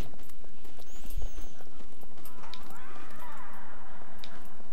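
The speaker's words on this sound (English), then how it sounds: "I can hear footsteps" Footsteps in the survival game Scum, a few soft thuds and scuffs at moderate distance mixed with faint ambient noise, with talking over them.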